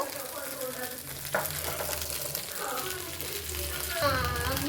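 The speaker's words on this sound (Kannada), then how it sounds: "ನಾನು ಎಣ್ಣೆ ಹಾಕ್ಕೊತಾ ಇದ್ದೀನಿ ನೀವು ತುಪ್ಪನೂ ಬೇಕು ಅಂದರೆ ಹಾಕ್ಕೋಬೋದು" Vegetable dosa batter with onion and tomato frying in oil on a pan, a soft steady sizzle close by, with a few scraping and stirring knocks from a spatula.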